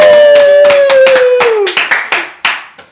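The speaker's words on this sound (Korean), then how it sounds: "박수 한번 치고 가시죠" A small group claps hands in celebration on a Korean football-talk show, with several distinct sharp claps near the mic. A sustained tone and talk sit under the first half, then the claps ring out on their own.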